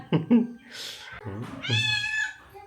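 A cat lets out a drawn-out meow after a few short sounds, with people talking close by.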